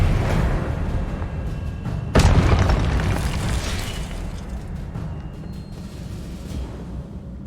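Confringo fire spell blasts in the Hogwarts Legacy video game on PS5: a loud sudden boom strikes mid-way over a dense rumbling background of game noise that then slowly fades.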